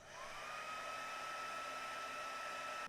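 A hair dryer blows steadily over wet watercolour paint on paper, a continuous close whooshing roar with a faint motor whine that holds evenly throughout, with no talking.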